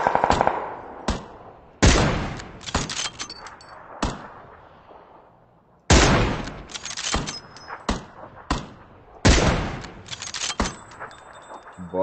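M4 rifle gunfire in the PUBG battle royale game, loud bursts of rapid shots fired in several separate volleys with short pauses between them.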